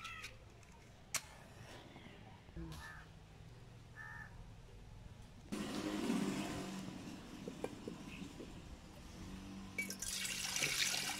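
Water is poured for cooking on an outdoor rocket stove, a steady rushing splash starting midway and running to the end, while crows caw nearby and faint household sounds come through beforehand.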